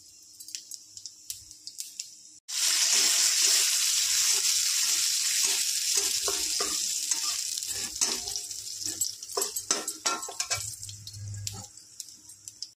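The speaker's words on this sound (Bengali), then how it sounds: "সামান্য একটু তেল দেব, সর্ষের তেল। আমি ফোড়ন দেব শুধু মৌরি।" Fennel seeds tempering in hot mustard oil in a bowl: a sudden loud sizzle bursts in and keeps hissing steadily, with scattered pops and crackles as it slowly fades, close by with no talking.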